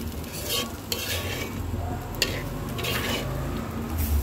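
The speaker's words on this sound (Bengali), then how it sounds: "ভাজবো ভাতটাকে।" Leftover rice is stir-fried Chinese style in a pan, with a spatula scraping and tossing against the metal over a steady low sizzle and a few sharp clinks, close by and with no voices.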